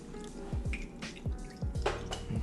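Liquid poured into a shot glass, a run of quick wet drips and glugs at close range, soft and uneven over a quiet room.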